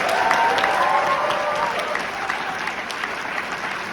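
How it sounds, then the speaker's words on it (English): Audience at a New York film Q&A screening of Wake Up Dead Man, a Knives Out mystery, applauding loudly and steadily with dense clapping that tapers slightly, crowd noise throughout. "Let's have a huge round of applause, please, for Wake Up Dead Man."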